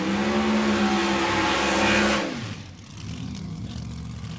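A Corvette and a Mustang nitro funny car drag race up close, with a loud roaring engine blast that cuts off abruptly after about two seconds, followed by a quieter fading rumble.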